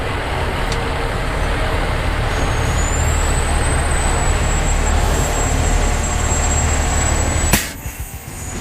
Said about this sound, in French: Oh, c'était bruyant. Le frein a lâché.